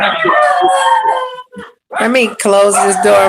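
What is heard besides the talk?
dogs barking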